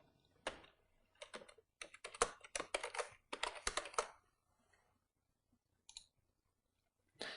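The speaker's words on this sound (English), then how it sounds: "now I need to type in that password" Computer keyboard typing a password, a close series of crisp key clicks in quick uneven bursts, then a pause and a couple of final taps, with no talk.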